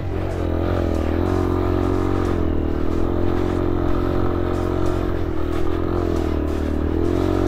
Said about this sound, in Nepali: पावरै छैन क्या बाइकमा यार